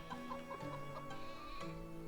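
Chickens cluck in a medieval farming game village, a continuous cluster of soft, overlapping clucks and calls at moderate distance over a steady ambient bed, with no one talking.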